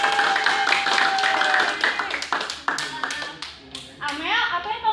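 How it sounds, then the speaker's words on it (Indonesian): Students in a classroom clap for a classmate named Dian, a dense burst of hand claps running for several seconds alongside children's voices and chatter, then thinning out as talk continues. "tepuk tangan buat Dian"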